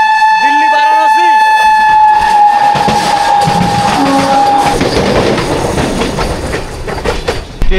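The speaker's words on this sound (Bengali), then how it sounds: "হাওড়া যোধপুরের সাথে ক্রস করছে এখন আমাদের বিকালির হাওড়া" The Bikaner Howrah Express sounds a long, loud horn while crossing the Howrah Jodhpur express, followed by a heavy rushing rumble and rail clatter as the trains pass close by at speed.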